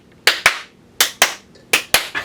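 A roller clap performed by hand: three sharp, loud paired claps, each pair a quick double slap, repeated in an even rhythm with short silent gaps between, close and dry with no talking.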